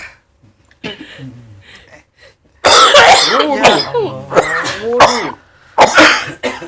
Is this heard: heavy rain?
no